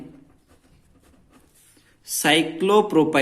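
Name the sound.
writing a note on a board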